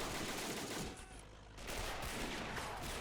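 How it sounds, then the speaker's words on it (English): Dense machine-gun fire crackles through a World War I field battle in the video game Men of War Assault Squad. The bursts overlap with other gunfire, ease off briefly, then return. The whole scene plays fairly faint and distant. "this man over here with a machine gun. He is opening up."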